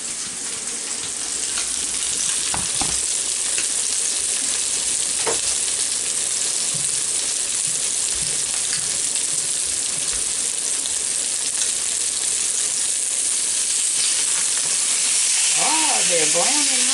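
Pork chops frying in a pan give a loud, steady sizzle and crackle throughout, with brief scraping stirs. A voice speaks briefly near the end.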